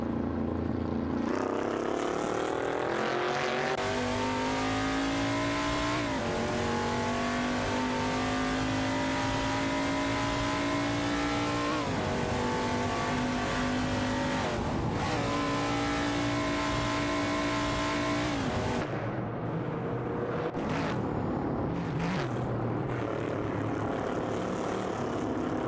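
Video game race cars scream past in a close battle, high-revving engines rising and falling in pitch through repeated gear shifts, loud and continuous, with overlapping engines dropping off toward the end.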